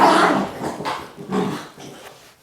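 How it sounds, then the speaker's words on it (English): Dogs growl and bark close by in a few rough, loud bursts that fade toward the end, with whimpering edges between the outbursts. "These dogs are crazy."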